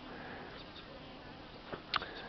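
Robber bees buzz faintly around a hive of a Buckfast-queen split, a soft steady drone with a couple of brief louder passes near the end.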